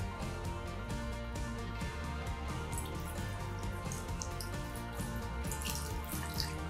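Water poured into a funnel, flowing in a continuous, even trickling stream that runs steadily from start to finish with no talking.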